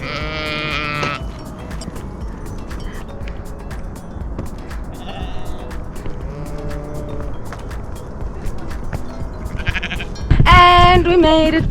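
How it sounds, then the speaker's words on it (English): Sheep bleat on an alpine pasture along the Tour du Mont Blanc trail, a few scattered cries near and farther off, ending with a loud close bleat over faint background noise. "Sheep everywhere!"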